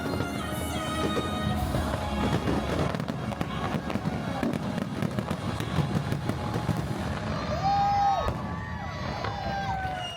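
Fireworks show at Epcot, with a continuous barrage of booms and crackles under a cheering crowd and accompanying music, loud and steady for the whole stretch.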